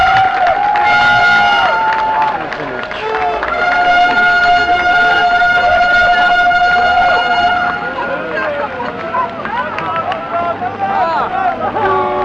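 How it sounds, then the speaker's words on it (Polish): Horns sound as a TLK passenger train from Warszawa Wschodnia arrives at a station platform, long loud sustained tones layered over station hubbub and a rumbling train, with crowd noise and talk around it. "po kilku minutach oczekiwania przy dźwięku syren zjawił się TLK numer 19119 z Warszawy Wschodniej"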